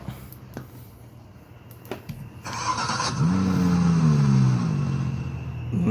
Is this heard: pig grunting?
no